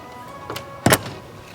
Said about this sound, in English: Now let's hope the door closes and locks.